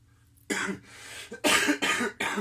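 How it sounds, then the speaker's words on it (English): Several harsh coughs in quick succession, close and fairly loud, with a short gap before the final pair. "Coughing."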